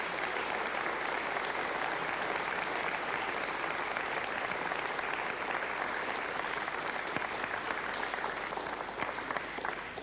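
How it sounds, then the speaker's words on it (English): Invited guests applaud at an Ariane 4 launch viewing as the Helios 1B satellite separates, a dense, steady wash of many hands clapping that fills the whole stretch at even loudness. "you hear the applause from the invited guests here as Helios 1B successfully separated Ariane"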